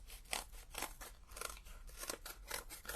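Scissors snipping through card stock while making handmade stamped greeting cards, about a dozen crisp, rhythmic cuts in quick succession, close and fairly quiet, with no talking.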